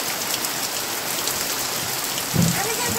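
Steady rain falls in a dense, even hiss outdoors, loud and constant, with a brief low thud near the end.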